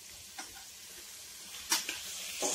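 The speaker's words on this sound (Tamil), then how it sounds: "எல்லாத்தையும் நல்லா மிக்ஸ் பண்ணிக்கோங்க" Vegetables for vegetable biryani are stirred in a pan, giving a few short scraping knocks against a soft, steady sizzle.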